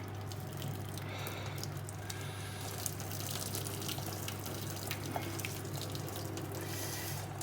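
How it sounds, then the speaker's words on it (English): Water from a pot of cooked ramen noodles pouring out steadily as the noodles are drained, a continuous close splashing rush with no talk. "Get all the noodles into there and drain them off."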